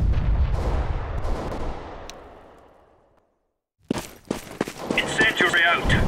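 A grenade explodes in a video game with a loud low boom that rumbles and fades to silence, followed by sharp gunshots and rustling movement close by, with a voice over the gunfire.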